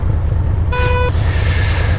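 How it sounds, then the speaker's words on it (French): A single car horn blares in Paris traffic, a short, loud honk lasting under half a second over a steady, rumbling road and engine noise. "ça klaxonne, c'est Paname"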